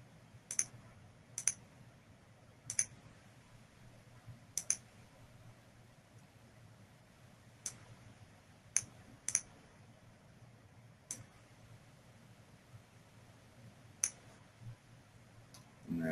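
A computer mouse clicks sharply and sporadically while someone edits a 3D speaker model, single and double clicks spaced irregularly over a faint room hum, close and alone without talk.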